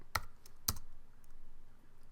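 Keys tapped on a computer keyboard while entering a command on a Raspberry Pi, two distinct sharp clicks about half a second apart over a quiet background.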